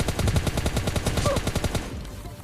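Automatic gunfire in PUBG Lite, a loud, close, rapid burst of evenly spaced shots lasting about two seconds before cutting off into a faint tail.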